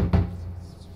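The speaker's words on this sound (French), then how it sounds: "Ah, on toque à la porte." A knock lands on a door in a clown-themed horror video game: one dull, low thud near the start, then a quiet, fading room tone.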